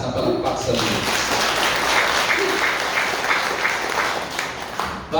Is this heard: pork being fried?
no